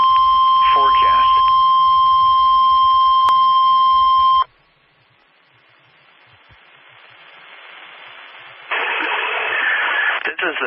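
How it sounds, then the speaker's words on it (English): A NOAA Weather Radio emergency warning alarm tone from the National Weather Service office in Aberdeen, South Dakota, during a weekly test: a loud, steady electronic tone runs alone for several seconds, then cuts off to a quieter broadcast hiss. "The warning alarm tone and the emergency alert system have just been activated."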